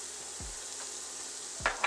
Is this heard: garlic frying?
yes